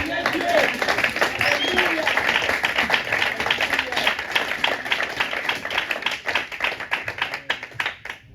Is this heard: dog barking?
no